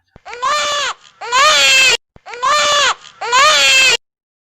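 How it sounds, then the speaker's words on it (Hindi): A baby wails in four long, loud cries with short breaths between them, close by and with nothing else heard. "अचानक से एक बच्चे की रोने की आवाज।"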